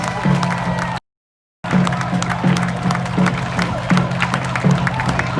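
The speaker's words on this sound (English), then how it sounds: "People clapping and celebrating, saying goodbye to Chris" A crowd claps and cheers outdoors in St. Paul, Minnesota as the Christopher Columbus statue is pulled down, a steady wash of applause and voices with a brief gap of silence partway through.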